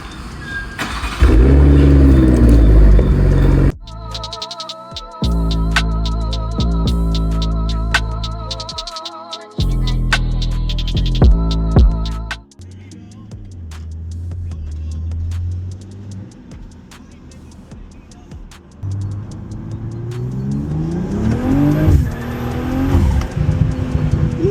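A BMW M340i engine revving while driving, with loud rising and falling revs, gear changes and steady engine drone, ending in a hard acceleration.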